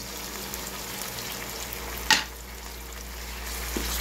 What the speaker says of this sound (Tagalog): Nagisa na yung bawang at sibuyas. Kaya atin nang isunod ang